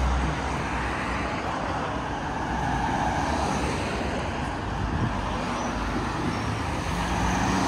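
Steady road traffic on the main street of Brasov, Romania: a continuous wash of passing cars, buses and trucks at moderate distance, with no lulls or voices.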